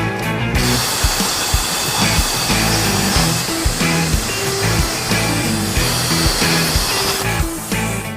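Plasma cutter slicing through metal on a car suspension part, a harsh continuous hissing roar with crackling and sputtering, steady and close throughout with no talk.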